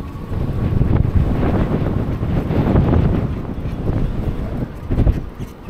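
Strong gusting wind roars across the microphone during an e-bike commute through a canyon, a loud, continuous buffeting rumble that swells and dips without letting up.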